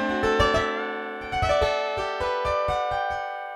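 A Surge XT physical-modeling synth patch set for a darker, piano-like tone plays a run of plucked, struck notes, close and clear, each decaying quickly over a sustained resonant body, with no voices.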